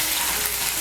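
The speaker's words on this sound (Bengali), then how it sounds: "ফোড়নটা দিয়ে একটু নাড়াচাড়া করে নেব।" Panch phoron spices and crushed ginger fry in hot oil while being stirred, giving a short, dense, steady sizzle that crackles close up without a break.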